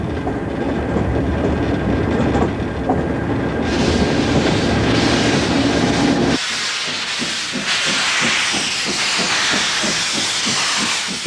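A train runs along the rails with steady rumbling, hissing and rhythmic clicking, loud and close, shifting partway through as the sound grows brighter and more rhythmic.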